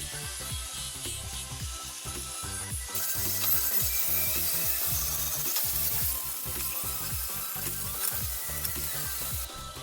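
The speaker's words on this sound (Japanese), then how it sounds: "溶接箇所の塗装をカップブラシで除去しています。" A cup brush on a power tool grinding paint off welded thick steel plate, giving a steady, dense abrasive rasp with a rhythmic rubbing pulse that grows a bit louder partway through and carries on throughout.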